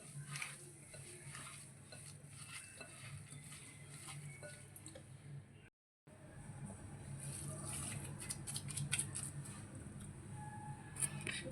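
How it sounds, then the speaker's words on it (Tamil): Cassava being mashed together with sugar by hand in a bowl, giving a continuous soft squishing and stirring with light scraping and clinking against the dish, steady and close throughout with one brief silent gap. "இதை நல்லா அப்படியே ஸ்மாஷ் பண்ணிக்கோங்க, கையாலேயே சும்மா அப்படி."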